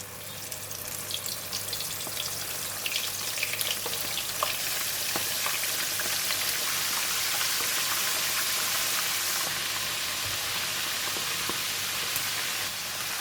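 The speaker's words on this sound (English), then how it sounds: "I have prepared the hot oil for deep fry in the pan, and we are going to put in the squid." Squid deep-frying in a pan of hot oil, a loud, dense, steady sizzle and crackle that carries on without a break.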